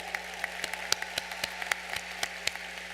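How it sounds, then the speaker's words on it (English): Sparse applause at a university commencement ceremony, a scattering of separate claps with sharp individual hits over a steady low hum, rather thin and fairly distant. "So let's give a round of applause for all the fathers."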